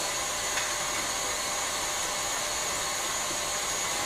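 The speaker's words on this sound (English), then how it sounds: "we're going to whisk this back up. I'm going to put it on full." An electric mixer whisks brownie batter at full speed, giving a steady, loud, unbroken whir throughout with no talking.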